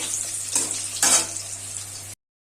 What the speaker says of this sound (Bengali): আলুটাকে একটু ভালো করে ভেজে নেব